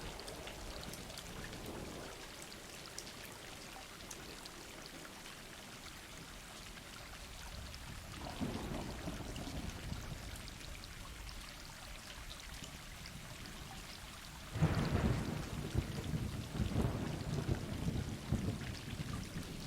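Steady rain falls continuously with a low thunder rumble beneath it, swelling noticeably louder near the end as the downpour intensifies.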